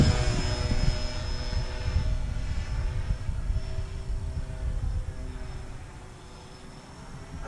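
An E-flite EC 1500 RC model airplane takes off with a steady, fairly loud propeller and motor drone that holds for several seconds, then eases and fades slightly toward the end.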